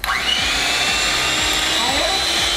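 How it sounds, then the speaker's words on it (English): Electric hand mixer whirring steadily on high while churning homemade ice cream, a continuous close motor drone with a high whine, people talking over it. "now we're gonna go ahead and get a little mixer"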